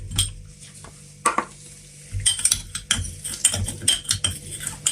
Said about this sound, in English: So now I'm going to dissolve my hydroquinone powder with my propylene glycol